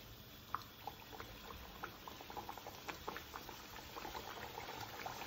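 Thattai vadai bubbling and crackling as it fries in a pan of hot oil, a steady close fizz with small pops scattered throughout, no voices.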